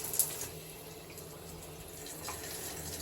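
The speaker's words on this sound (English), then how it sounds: "So we've got the water coming out now, hot, and you can adjust that by turning it to cold." Hot water runs steadily from an ensuite shower, a continuous close hiss with no one talking.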